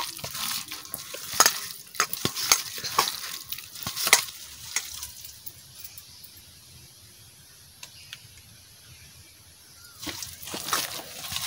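Rice flour and water are mixed by hand into a batter for potato-peel chops, making wet squelching and slapping sounds that cluster at the start and end with a quieter stretch between.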